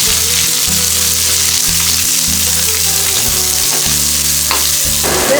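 Mustard seeds, urad dal and small shallots frying in hot oil, a dense steady sizzle close up with crackling pops and stirring scrapes throughout.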